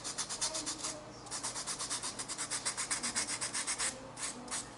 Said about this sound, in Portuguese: agora nós vamos lixar cuidadosamente o nariz, lixando primeiro as laterais